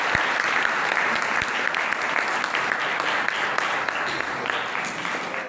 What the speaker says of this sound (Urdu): آئیے یسوع کے جلال کے لیے زوردار تالیاں۔